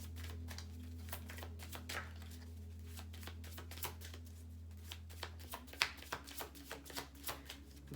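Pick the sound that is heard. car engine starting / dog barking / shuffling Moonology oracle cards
shuffling Moonology oracle cards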